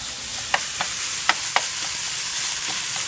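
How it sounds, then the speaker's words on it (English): Ground beef and onions sizzle steadily in a pan, a soft even fry broken by a few sharp scrapes and stirs of a utensil, close by and alone without talk. "we have our nice sizzling meal that's making all my roommates hungry"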